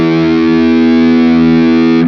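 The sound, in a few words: electric guitar in drop D through Peavey 6505 module, gain at max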